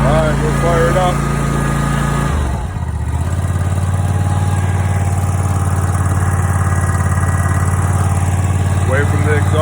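A lawn mower engine runs loudly and steadily close by, with a brief dip in its sound partway through and some speech early on.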